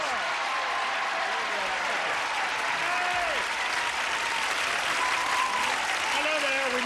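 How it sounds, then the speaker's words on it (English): Studio audience applauding on a 1984 Match Game–Hollywood Squares Hour TV game show set, a steady, dense wash of clapping throughout, with a host's voice talking over it. "Brisk round of applause here"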